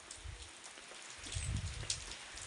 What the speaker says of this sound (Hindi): बरसात शुरू हो गई है।